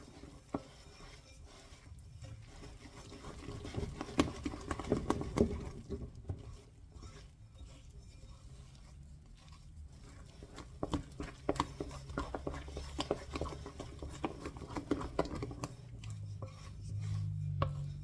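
Bread dough of white and whole wheat flour being beaten by hand in a bowl: soft, irregular slapping and rubbing strokes, quiet and close, continuing steadily with brief gaps.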